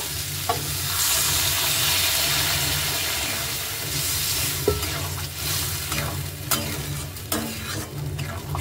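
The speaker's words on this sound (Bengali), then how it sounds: "এবার আমি জল দিয়ে দেব।" Water poured into a pan of frying green peas and potatoes gives a loud, steady sizzling hiss close by, with occasional clicks from stirring and no one talking.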